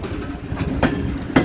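A train pulling out of Multan railway station along the platform end, with a steady close rumble and rhythmic clickety-clack of wheels over rail joints and no voices.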